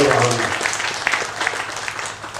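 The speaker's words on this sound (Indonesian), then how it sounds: "Tepuk tangan untuk teman-teman kita semua" An audience at an Indonesian cultural event in Blitar breaks into applause, a dense burst of clapping that fades over about two seconds, with a voice speaking over the start.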